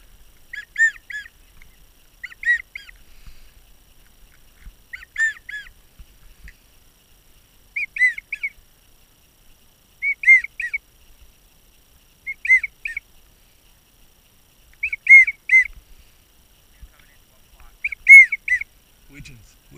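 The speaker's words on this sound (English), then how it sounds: "I heard the widgeons kind of whistle at us" Wigeon ducks give repeated short, high whistling calls at fairly regular intervals, thin and somewhat distant against a quiet outdoor background.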